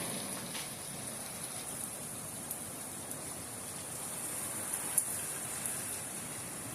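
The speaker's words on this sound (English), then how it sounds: "You can see these curtains of rain forming," Steady rain falls during a thunderstorm in Canastota, New York, a dense even hiss of drops on surfaces with a few louder close splashes, no voices.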